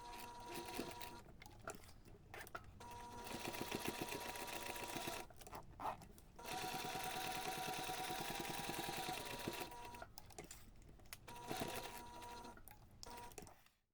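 A sewing machine backstitching a zipper pocket into a bag lining, running in quick rapid bursts of close, fast needle stitching separated by brief pauses, with no talking.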